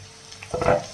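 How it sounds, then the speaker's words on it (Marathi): Tomatoes sautéing in a pan for egg rice, a brief burst of sizzling with a quick stir of a spoon that swells toward the end of a short moment. "ते चांगला 30 सेकंद परतून घेऊया."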